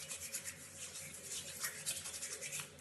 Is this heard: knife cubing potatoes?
no